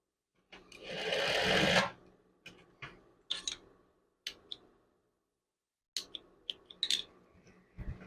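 A sewing machine stitches a chef's jacket in short bursts: one longer whirring run, then a series of brief stitching spurts and clicks with pauses between them, close and fairly quiet.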